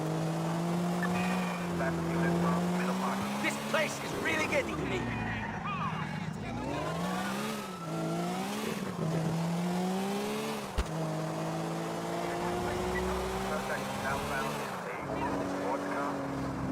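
Race cars in GTA 4 roar continuously, their engine pitch climbing and dropping through gear shifts as they speed along, loud and close, while a voice talks over the engines.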